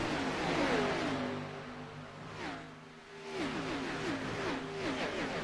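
Ford Mustang race cars at Michigan International Speedway pass by at a distance, their engine notes rising and falling in repeated sweeps over a steady background roar. No one speaks.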